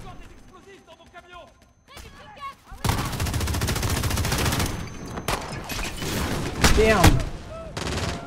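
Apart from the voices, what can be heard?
machine gun firing in Call of Duty MW video game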